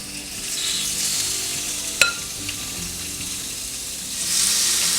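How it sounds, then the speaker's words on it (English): Marinated beef steak sizzles steadily on an oiled grill turned down to about 350, with a sharp clatter near the middle as the meat goes down and the hiss swelling louder toward the end. "And then I'm just going to lay the meat on top of this grill."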